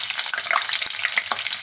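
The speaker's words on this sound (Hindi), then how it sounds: "ये ऑयल हमने इसमें डाल दिया और इसमें ये लहसुन काट के हम इसमें डाल रहे हैं" Chopped garlic sizzles in hot oil in a pan for an aloo methi dish, a close, steady crackle with brighter spits and pops scattered through it, no voices.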